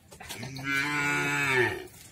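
A single long, loud moo from cattle at a karapan sapi bull race, rising and holding steady for over a second before falling away, close by with no talk over it.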